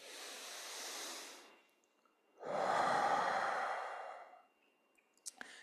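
Two slow, deep breaths during a breathing exercise: a long airy inhale fading out, a pause, then a fuller, louder exhale trailing off, close and alone, with a few faint clicks at the end.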